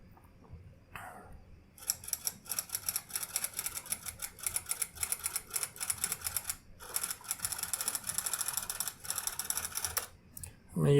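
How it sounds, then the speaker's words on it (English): Rapid typewriter keystrokes clatter in dense bursts at a slowed pace, with short pauses between runs of mechanical key strikes and faint ratcheting. "I want to mimic a typewriter sound."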